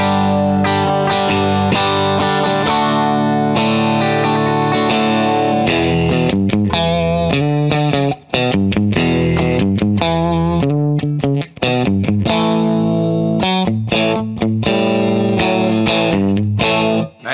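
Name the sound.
electric guitar, bridge and middle pickups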